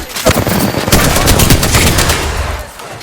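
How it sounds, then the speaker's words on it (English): Rapid gunfire crackles through an Apex Legends firefight, dense bursts of automatic shots overlapping at close range, loud and sustained before easing slightly at the end. "I am taking fire, friends."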